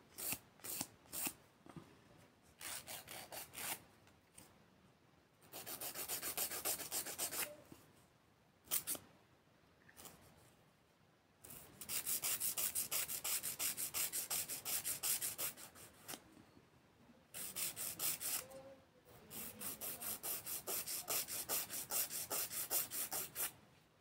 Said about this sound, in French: c'est une vieille lime, mais elle est très bien.